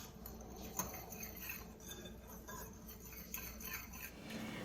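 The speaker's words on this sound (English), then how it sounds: "I am going to add the salt to my flour, and then just with my whisk," A wire whisk blends salt into flour in a bowl for rustic dinner rolls, making faint, steady scraping and light metallic clinks throughout, quiet and close with no voices.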